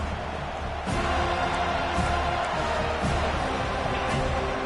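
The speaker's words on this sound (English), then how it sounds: "This crowd bringing an ear-splitting welcome to their visitors" A stadium crowd roars at a Florida State vs Cal college football game. The noise is a dense, sustained wash of cheering that stays loud and steady throughout, with faint bursts rising above it.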